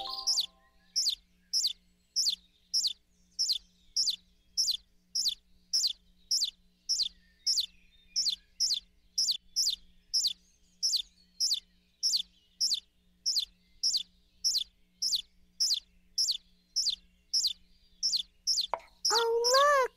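Baby bird hatchlings in an animated game peep in a fast, evenly spaced series of high, clear chirps, with a different, lower call at the very end.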